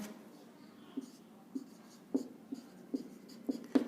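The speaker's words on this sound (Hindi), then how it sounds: "यहां पर लिख देता हूं मैं" Chalk or marker writes on a classroom board during a biology lesson, sounding as a quick run of close taps and short scratchy strokes with a faint room hum and no talk.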